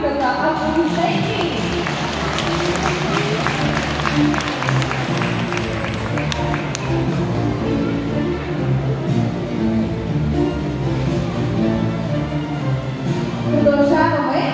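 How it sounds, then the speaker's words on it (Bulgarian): Audience at the Varna dolphinarium show clapping together in a steady, dense wave of applause with crowd voices mixed in, a rhythmic patter that holds for the whole stretch and swells slightly at the end. "Аплодисменти!"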